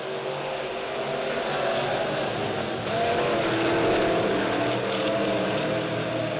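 Midwest Modified race cars roar side by side on the Springfield Raceway dirt track in a heat race, a steady loud engine drone that swells slightly midway as the field comes off turn four.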